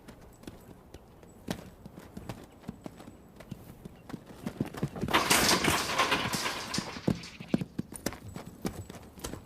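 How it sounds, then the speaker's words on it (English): Hooves of a young, unhandled two-year-old quarter horse stud on a Northern California ranch clop and scuff irregularly, swelling into a louder, busier scramble midway before settling back to scattered steps. "This 2-year-old quarter horse stud, born on the open range, has never been handled."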